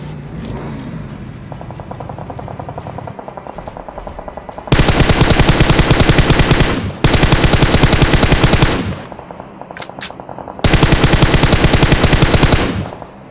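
Automatic gunfire in a first-person shooter match, sustained loud bursts of rapid fire in three long stretches, with quieter engine and clatter sounds between them and no talking.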